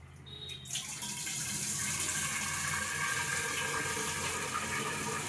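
Fresh water gushing steadily from a tap, starting after a brief quiet moment and then running as a continuous, fairly quiet rushing flow with no talking.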